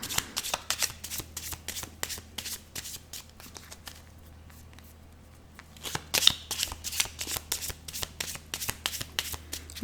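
A deck of tarot cards being shuffled by hand, with quick riffling flicks that repeat in bursts, pause briefly in the middle, then pick up again, close and fairly quiet.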